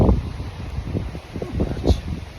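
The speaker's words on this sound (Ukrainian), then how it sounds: "отаке вітрюгане. Хмари, вітер." Gusty wind buffets the microphone with low rumbling and rustling, rising and falling throughout.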